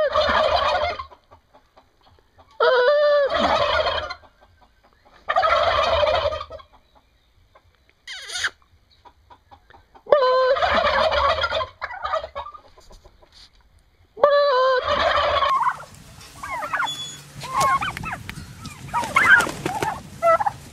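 Turkeys gobble loudly and close by in repeated bursts of rapid gobbling, about six bouts spaced a couple of seconds apart, followed by softer clucking and rustling.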